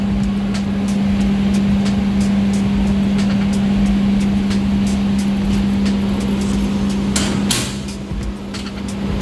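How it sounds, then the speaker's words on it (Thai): The wire feed motor inside a Lincoln Power Mig 305C welder gives a steady, close, loud hum with faint ticking. The hum cuts out near the end, followed by a brief clatter. "มอเตอร์ตัวนี้ ใช้ในในการขับลวดนะครับ ให้ออกมาใช้งานนะครับ"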